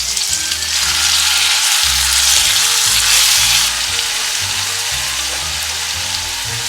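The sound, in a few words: pears cooking in light caramel in a pan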